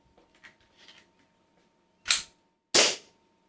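A Colt 1911 100th Anniversary airsoft pistol by Cybergun/KWC fires two sharp, loud pops about 0.7 seconds apart, preceded by faint light clicks and handling noise.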